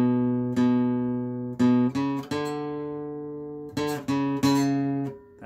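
Electric guitar picking out a riff, a run of plucked notes repeating the short figure with clear sustained tones and sharp attacks, played alone and up close.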